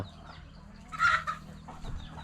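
Farm chickens cluck in a short burst close by, a few sharp calls rising over steady low background noise with no talk.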